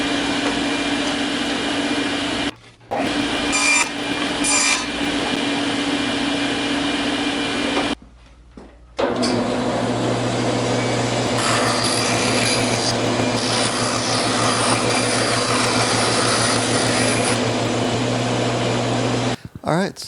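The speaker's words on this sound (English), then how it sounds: "And now I'm cutting out some thin plywood to make some of the other parts of this assembly." A power saw cuts thin plywood for a drill press table, running as a loud, steady, rasping drone with a low hum underneath, broken by two short pauses, then resuming until the end.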